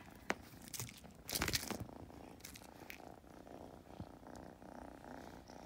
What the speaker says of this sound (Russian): И мурлычешь, и дышишь, как собачка.